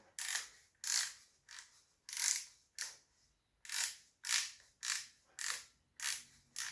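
The cutting depth knob on a Parkside hand planer is turned in a run of about a dozen crisp, evenly spaced ratcheting clicks, close up and quiet, with no voices over them.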